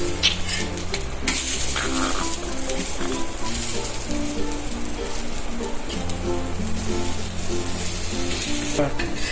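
Thalipeeth flatbread with sesame seeds roasting in a pan, giving a steady close sizzle and crackle that runs unbroken throughout, with no voices over it.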